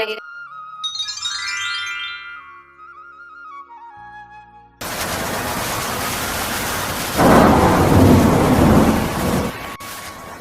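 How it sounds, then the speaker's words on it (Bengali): Heavy rain with thunder in a Bangla fox fairy-tale cartoon: after a musical opening, a loud steady wash of rain starts midway and swells louder with a deep rumble near the end. "মা, বাইরে তো আজ অনেক বৃষ্টি হচ্ছে।"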